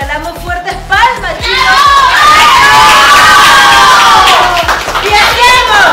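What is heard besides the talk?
children cheering and clapping at a birthday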